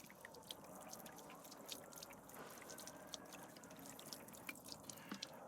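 Water from a handheld container flushed quickly over a dipped car panel coated in Dip Armor, a rubberized spray coating; steady splashing and dripping runs throughout, close and continuous, with no talking.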